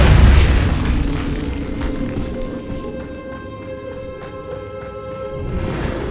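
A Repulso spell in Hogwarts Legacy goes off as a loud, deep magical blast that fades into a shimmering, ringing tail, followed by quieter tonal game effects.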